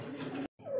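Pigeons coo on a pigeon farm, one close bird's low throaty call running steadily, then a short silence before another coo swells and rises in pitch.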